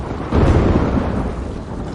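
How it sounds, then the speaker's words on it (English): Thunder rolls low and heavy over a caravan at night, one sustained dull rumble that swells early and then fades slowly, with nothing else heard over it. "Lightning flashes over Shang Tsung's caravan at night."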